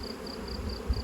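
Honey bees buzzing on an opened hive frame, a faint, steady hum that stays close and even.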